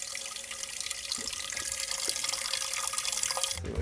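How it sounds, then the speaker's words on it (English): A kitchen tap runs steadily into a sink, a continuous broadband hiss of flowing water from start to finish that cuts off abruptly near the end, with no talk over it. "This tap is taking its time."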